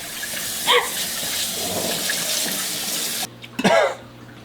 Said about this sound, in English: Don't throw up in my sink.